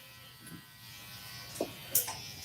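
Electric hair clippers buzzing faintly and steadily while cutting a boy's hair, with a few soft ticks and brushing sounds near the end.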